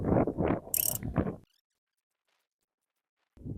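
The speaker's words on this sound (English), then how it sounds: "I'm just going to start tightening the bracket. It's already in there, hand tight. We're just going to crank it down." A ratchet wrench clicks rapidly in short bursts while tightening a Jeep Wrangler battery bracket, close and fairly loud, followed by a brief silence.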